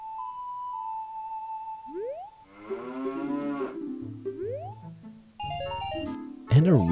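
Cows in The Legend of Zelda: Ocarina of Time give several drawn-out, synthesized moos over game music, followed by chiming jingles and sound effects, with a person talking at times.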